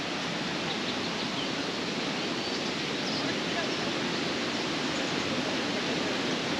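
The Ouzoud waterfalls in Morocco, the country's largest, roar as a steady broadband rush of falling water heard from high above, constant and even without pauses.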